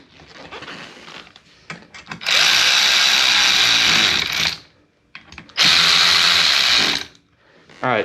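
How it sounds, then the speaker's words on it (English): Ratchet tightening bolts on a KOMOTO X1500 electric snow scooter during rear tire and track install: two loud, sustained bursts of rapid clicking, about two seconds each, separated by quieter handling noises, close up with no talking. "you're going to want to tighten the bolts down here that we were working on before"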